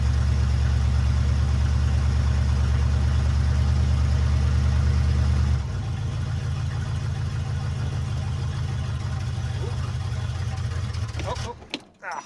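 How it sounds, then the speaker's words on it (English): A car engine idles after a cold start, a loud steady low rumble that drops to a lighter, rougher idle midway, then sputters and cuts out near the end. "Don't know if she'll idle."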